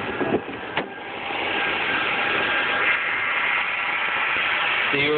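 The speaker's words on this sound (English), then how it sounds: "Engine runs perfectly smooth." A 2001 Mercury Sable idling with the hood open, a steady broad engine hum and hiss heard close, with a couple of brief knocks near the start and a short rustle at the end.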